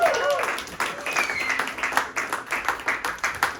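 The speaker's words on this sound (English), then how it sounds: "Give yourselves a round of applause because that's what gets people excited." Scattered clapping from an audience at a blockchain meetup, uneven and moderate, mixed with cheering voices and chatter throughout.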